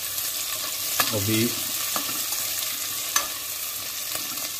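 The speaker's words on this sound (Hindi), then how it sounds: "देखिए दोस्तों, ये अच्छे से भुन रहा है।" Ingredients for a no-onion, no-garlic Navratri khichdi roast in a pan over a raised flame, a steady broadband sizzle with a few sharp spoon taps and a brief spoken word.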